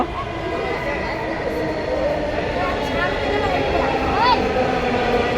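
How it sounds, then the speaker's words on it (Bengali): A metro rail train arrives at an elevated station, a loud, steady rumble and roar with a high whine rising near the end. "ট্রেন আসতেছে"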